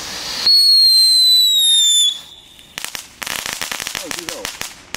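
Crackling King fireworks from the Action store go off loudly outdoors: a shrill rising whistle lasts about a second and a half, then gives way to dense, rapid popping and crackling bursts.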